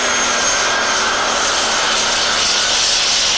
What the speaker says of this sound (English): here's the fastest superstock in Europe, Magcal Bits and Pieces. He gets those back wheels turning at 130 kilometers an hour.